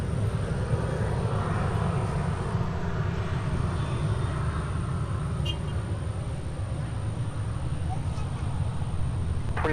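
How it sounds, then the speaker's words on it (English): Sun Country Boeing 737-900ER departing runway 30 left at an airport, a continuous loud jet engine roar that holds steady for the whole stretch with a faint high whine above it. "So Sun Country departing 30 left with only a handful of 737-900ERs in their fleet"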